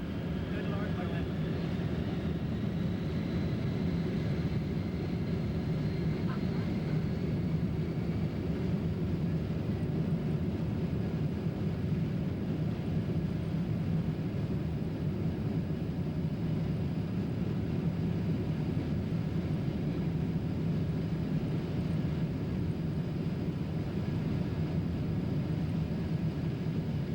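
Jet airliner taking off for London, a steady loud engine roar with broad rumble holding throughout, voices talking faintly underneath.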